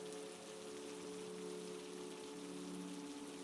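Soft, steady rain falls as a faint, even hiss across a cozy winter scene, with a low constant hum beneath it and no talking.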